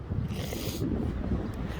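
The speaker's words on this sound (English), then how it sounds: "We're getting a high windstorm today. All day, it's going to be like this." Strong gusty wind in a windstorm with gusts up to 60 miles per hour, a steady loud broadband roar buffeting the microphone throughout, with no pauses between gusts.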